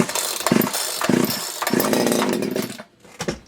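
A Poulan Wood Shark chainsaw runs up close, revving and bogging in uneven bursts with a raspy two-stroke buzz, then cutting out abruptly near the end before sputtering briefly.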